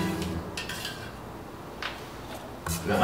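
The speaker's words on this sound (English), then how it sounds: "In goes the serrano." A serrano pepper goes into a pan with tomatillos, onions and garlic for roasting, with clinks of utensils on the pan, a faint sizzle underneath, and a louder clatter near the end.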